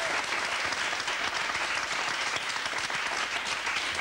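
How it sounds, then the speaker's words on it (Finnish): A studio audience on a Finnish talk show gives dense, even applause at steady volume, a continuous crackle of many hands with no voices over it. "Annetaan isot aplodit"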